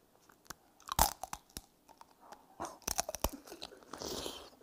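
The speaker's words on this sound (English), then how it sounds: "Somebody said, let's hear the crunch." A candied tanghulu strawberry is bitten close up, a loud glassy crunch of hard sugar shell followed by wet chewing and more crackling bites, with no talking.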